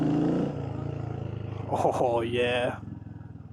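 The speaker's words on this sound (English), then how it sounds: "that thing sounds real good with the exhaust bouncing off the buildings" A Royal Enfield motorcycle exhaust barks and echoes off surrounding buildings, a short rising burst of revs after someone speaks briefly, then settling to a low rumble.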